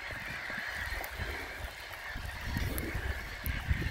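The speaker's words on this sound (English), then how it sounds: "Full of noisy bloody seagulls this time." A flock of seagulls on a pond calling and squawking loudly outdoors, their cries overlapping against a steady background rush of wind or water.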